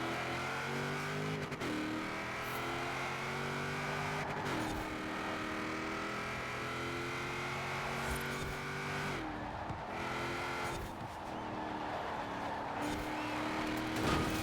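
A racing car engine in the open-world driving game Forza Horizon 4 drones and revs steadily throughout, its pitch climbing and dropping through gear shifts, with brief tire squeal, loud and continuous.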